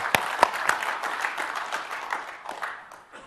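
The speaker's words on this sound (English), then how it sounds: "I want to hear a big applause for Shirish." Warm applause from a conference audience welcoming a speaker, a dense wash of many hands clapping steadily, with a few sharper near claps at the start, fading slightly toward the end.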